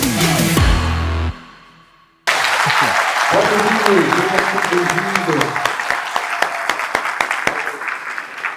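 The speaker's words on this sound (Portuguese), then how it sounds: "Uma salva de palmas" After a moment of speech and a short hush, an audience at a supermarket industry lecture breaks into loud, sustained applause with dense clapping throughout.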